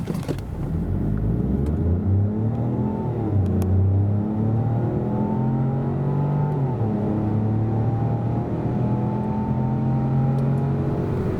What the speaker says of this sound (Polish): najwięcej pokażą nagrania sprintu od 0 do setki obu samochodów